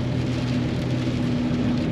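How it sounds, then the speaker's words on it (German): Hail falls in a dense, even hiss of pelting ice, a steady loud wash of impacts without a break and no voices over it. "Und der Hagel kommt."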